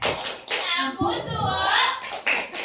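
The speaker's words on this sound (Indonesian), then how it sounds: "Tepuk santiang untuk Bu Ihsan." A group at a school gathering does a patterned rhythmic clap chant, bursts of hand clapping mixed with children's and adults' voices calling out together between the beats.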